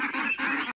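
A domestic duck from a village flock lets out a short, harsh, nasal honking call, two quick bursts close by with nothing else heard.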